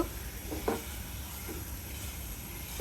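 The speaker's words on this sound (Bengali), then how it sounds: "মশলাগুলোকে আমি ভালোভাবে কষিয়ে নিব" Spices with chilli, sliced green chilli and turmeric sizzle in a pan for a country chicken curry, a low steady frying hiss with a few soft scrapes of stirring.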